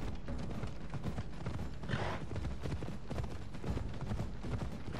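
Hooves of a horse clip-clop steadily and close in Assassin's Creed Odyssey, a brisk continuous rhythm over game ambience, with a brief hissing swell partway through.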